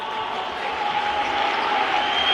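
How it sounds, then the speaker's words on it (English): Students in a school basketball crowd cheer and roar steadily during an intercollegiate game between Christian Brothers College and Blackfriars, a broad, sustained wash of crowd noise that swells slightly, with talk mixed in. "Crowd seriously getting into this one now as we come back after the timeout."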